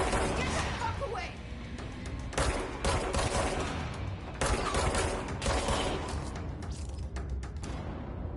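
Enemies fire guns in a video game called Control, and the shots come in dense, noisy bursts that last through most of the stretch. The bursts swell and ease in waves, and a player's voice is heard among them.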